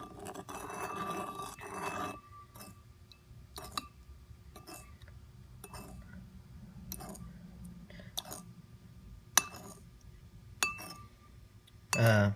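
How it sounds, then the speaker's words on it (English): A spoon stirring a solution in a glass container, producing a series of sharp clinks and taps at irregular intervals over quiet background, with a faint murmur of voice early on. "Just mix it up then until it's all dissolved."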